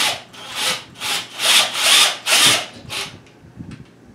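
Hand tool working a wooden workbench, a series of about seven loud, rhythmic rasping strokes in close succession, each a harsh scraping burst, slowing and fading at the end with no voices.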